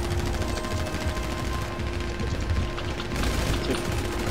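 Gunfire in the GTA 5 video game, a dense, continuous rattle of rapid shots layered over a steady game background hum, heard at close range throughout.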